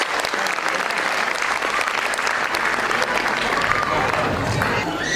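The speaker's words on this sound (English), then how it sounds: "please encourage our child by giving them a huge round of applause" Parents applauding children after a school class presentation, dense continuous clapping filling the room at an even level with faint voices beneath.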